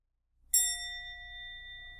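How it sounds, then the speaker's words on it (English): One clear bell strike rings out during a dharma talk and sustains, its pure tone slowly fading across the rest of the clip. "so I hear the bell"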